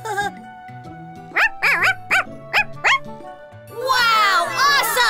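A child imitates a puppy yapping with a rapid run of high woof sounds, followed by a burst of excited cartoon chatter and music.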